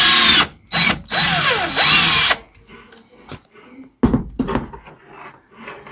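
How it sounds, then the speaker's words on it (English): A power drill bores a hole for a reverse osmosis water line, three loud close whirring bursts, the last winding down in pitch, followed by quieter clicks and handling knocks of the workpiece. "So when you're drilling your hole, you want to make sure that you don't go through to the other side."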